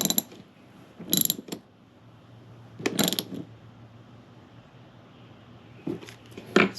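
A socket ratchet clicks in a few short bursts while tightening a bolt on an FZR 1000 carburetor, close up with quiet pauses between the strokes and no talking.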